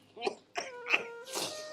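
An old man coughs faintly, three or four quick, rough, voiced coughs in close succession, ending with a breathy hack.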